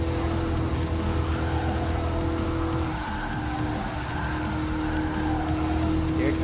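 A Dodge Charger SRT Hellcat races in Gran Turismo Sport, its engine holding a loud, steady drone with tire squeal mixed in throughout.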